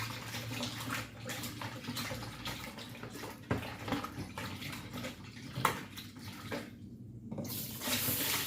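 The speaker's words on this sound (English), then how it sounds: "Just rinse it off with a little vinegar, guys." Salmon is rinsed with vinegar and water under a running tap, giving close splashing and trickling with intermittent bursts and drips over several seconds.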